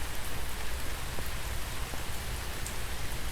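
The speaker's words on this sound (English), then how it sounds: "right now, let me just say that I'm enjoying this rain immensely." Steady rain pours down on a garden, a dense even hiss of drops hitting surfaces with occasional nearer patters, no voices.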